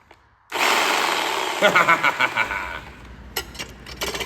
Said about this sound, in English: we're going to cut the rear bolts off